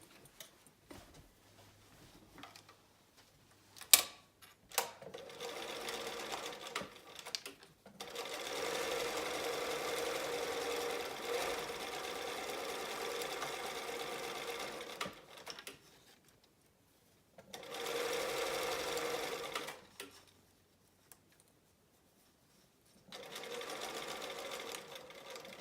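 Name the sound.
sewing machine top stitching edges of fabric keychain wristlet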